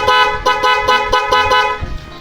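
Aftermarket multi-tone horn fitted to a motorcycle, blaring a rapid series of pulsing, buzzy honks close up and loud for about two seconds, with no voices.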